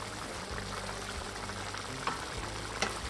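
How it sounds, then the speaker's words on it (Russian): Rice bubbles at a steady boil in a pot for beef plov, a continuous close simmering hiss with a couple of faint clinks, no voices. "Варим рис"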